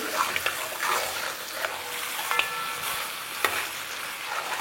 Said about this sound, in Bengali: জাস্ট ফ্লেমটা হাই করে এটাকে ভালো করে কষতে থাকুন, ঠিক আমি যেভাবে কষে নিচ্ছি